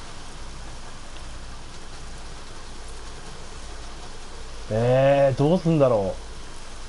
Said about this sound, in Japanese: やっぱ雨が強い